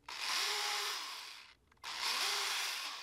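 A power drill boring into the lead weight of a handmade bass swimbait, two whining bursts separated by a short pause, close and loud.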